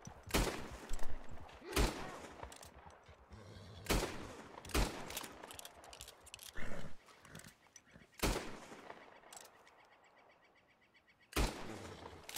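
Gunshots ring out in Red Dead Redemption 2, several sharp, loud cracks spaced irregularly over quieter ambient game sound, with faint background noise between shots.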